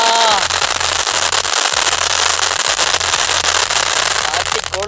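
Sivakasi star-shower firecracker for Diwali bursts in a loud, dense crackle of rapid pops close by, continuous throughout, with people talking underneath.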